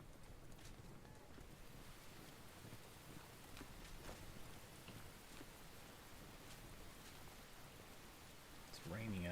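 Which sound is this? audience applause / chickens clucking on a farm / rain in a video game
rain in a video game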